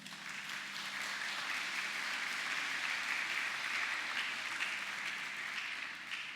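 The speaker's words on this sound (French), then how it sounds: "Nous le demandons de l'applaudir chaudement pour nous." Steady, dense applause fills a church during a Sunday 6 AM Mass for the parish Grande Chorale's feast day, as the congregation warmly claps for the choir conductor, sustained without pause.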